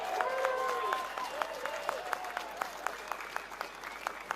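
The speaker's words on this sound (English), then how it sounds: "another big round of applause for Dominic" A crowd at a British farmers' protest against inheritance tax in central London applauds a speaker, steady clapping outdoors with voices mixed in, thinning to scattered individual claps toward the end.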